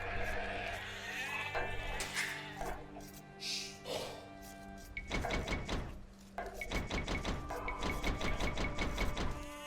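Sheep bleat in the strategy game Age of Empires II, several short wavering bleats early on, followed by rhythmic clinking and chopping from villagers at work.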